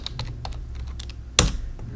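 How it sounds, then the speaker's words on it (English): Someone types a short command on a computer keyboard, a run of light, rapid key clicks ending in one louder, sharper keystroke, close and alone. "which you can run by typing npm or PM2 monit"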